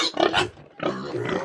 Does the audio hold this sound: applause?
no